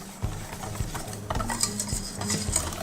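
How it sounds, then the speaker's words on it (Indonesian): Spice mixture of salt, coriander, garlic and candlenut stirred for bitter melon chips, a spoon scraping the bowl in a steady rhythm of about five close, distinct strokes with no talk. "Aduk lagi"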